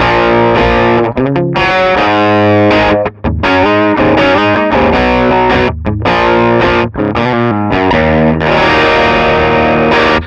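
Electric guitar chords rung out through a Sonicake pedal set to a Vox AC30 2x12 cabinet tone, loud and dense, with short gaps between strums.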